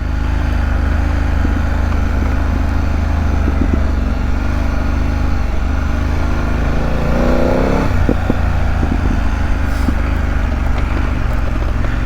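A BMW F900GS motorcycle ridden on a mountain road, its engine a constant loud drone with wind rush, with a brief rise in revs midway.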